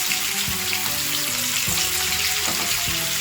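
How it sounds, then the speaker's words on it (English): Pomfret fish fry in hot oil on medium flame, giving a dense, loud, close sizzle that crackles steadily throughout, with faint low clunks from the pan underneath and no voices. "So gently, carefully place it in hot oil and fry them."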